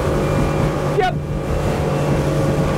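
A 2021 Nimbus T9X motorboat doing a burnout on the water, its engine a loud, sustained close roar, with a brief whistling sweep and one short spoken word partway through.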